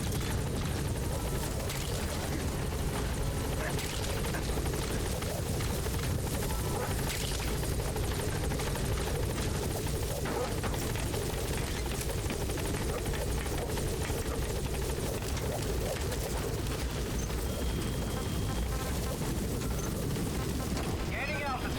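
A helicopter gains altitude in Metal Gear Solid 5, its rotor drone a steady, dense rumble throughout, with occasional thuds and bursts beneath it.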